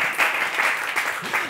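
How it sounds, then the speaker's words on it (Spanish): A small studio audience on a chat show gives a short, moderately loud burst of clapping, steady and dense, heard alone with no voices over it. "Un aplauso para esa espontaneidad"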